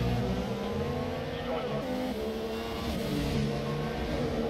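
Formula 1 race cars in the F1 2017 video game at the Baku Grand Prix, including a Renault and a McLaren, with a steady high engine whine and gear shifts on a front straight, faint and continuous under commentary.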